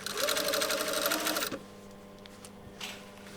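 Sewing machine running steadily as it stitches the side seam of a shirt sleeve, loud and close for about a second and a half before stopping abruptly, followed by faint handling noise.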